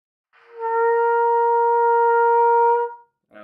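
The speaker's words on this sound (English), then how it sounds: "I had trouble squeezing out that C, which is the highest C" A trumpet holds a single high C, the highest C on the instrument, as one sustained bright tone lasting over two seconds, swelling in and cutting off cleanly, close and alone.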